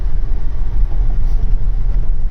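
An off-road vehicle grinds up a steep mountain track in Himachal Pradesh, its engine giving a steady, close, low rumble without pause and with no talking.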